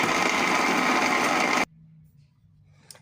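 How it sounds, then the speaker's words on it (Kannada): A mixer grinder grinds sambar masala for a Karnataka-style vegetable sambar, giving a loud, steady whirring roar for about a second and a half before it cuts off abruptly into near quiet. "ಸೊ ಇದನ್ನು ಗ್ರೈಂಡ್ ಮಾಡೋಣ."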